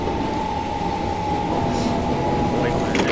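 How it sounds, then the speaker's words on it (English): A train passing in Train Simulator 2020 on the Epsom to London Bridge route, a steady loud rumble with a sustained tonal hum and faint wheel squeal toward the end, with a voice talking over it. "Actually, that train's going back towards"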